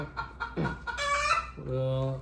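Sonali desi chickens clucking close by, a few short calls then a longer, steady tonal cluck, with faint background murmur.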